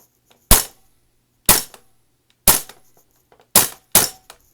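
A Ddmk18 toy blaster fires five sharp, loud cracks close by, the first three spaced about a second apart and the last two in quicker succession, with silence between shots.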